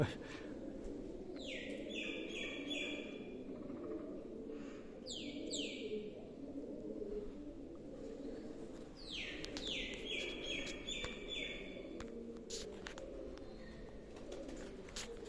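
Pigeons coo softly at Uparkot in Junagadh, among repeated sharp chirps from other birds, all faint over a steady outdoor background.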